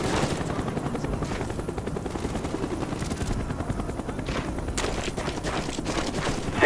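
A Cobra attack helicopter in the video game Call of Duty: Black Ops gives off a steady, loud rotor thump and engine roar, with bursts of gunfire and booms mixed in throughout.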